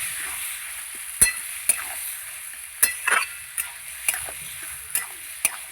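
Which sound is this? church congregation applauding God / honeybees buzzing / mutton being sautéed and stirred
mutton being sautéed and stirred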